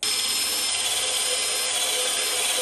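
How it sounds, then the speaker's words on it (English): A power drill bores a mounting hole through a motorized bicycle frame during an electric start installation, a loud, steady high-pitched whine that runs unbroken for nearly three seconds with no talk over it. "So I'm gonna drill it out, bolt it in"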